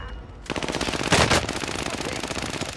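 Rapid automatic gunfire in Call of Duty Warzone on the Caldera map, a loud sustained burst of shots starting abruptly and continuing to the end, close and dense.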